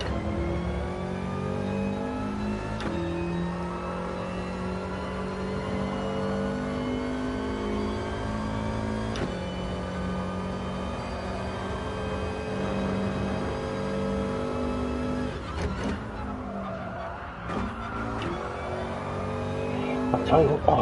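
A Subaru race car in a racing video game holds a steady, droning engine note with shifting pitch and occasional gear changes, playing continuously for about twenty seconds under an intermittent commentary voice.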